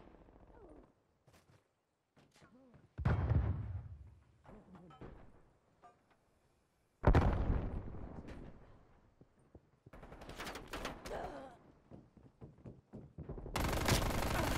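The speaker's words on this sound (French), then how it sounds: "Je lance une grenade." A grenade thrown in Call of Duty Black Ops Cold War during a multiplayer match: short bursts of gunfire and thuds come and go, a loud blast-like surge at mid-clip, with sparse game noise between and a voice speaking.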